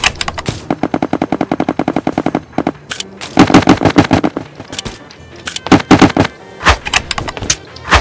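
Rapid gunfire from the video game Roblox Bedwars rattles in fast bursts of repeated shots, loud and close, with short pauses between volleys.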